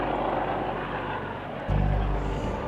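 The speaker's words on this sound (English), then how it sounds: "the police helicopter X-Ray Alpha 99 has been called in to help with the search" Police helicopter X-Ray Alpha 99 drones overhead during a search near a field after a drunk-driving crash, a constant rotor and engine rumble that swells louder and deeper partway through.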